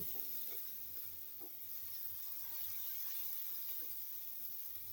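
Masala with chili powder being stirred in a pan, giving a faint, soft sizzle with a few gentle spoon scrapes at an irregular pace and no talking.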